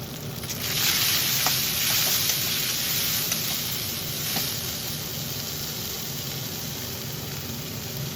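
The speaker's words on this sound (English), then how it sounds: "Then add ginger garlic paste and cook until it turns golden." Ginger garlic paste sizzling in a hot pan while cooking until golden, a steady bright hiss that swells briefly near the start and then settles into an even fry.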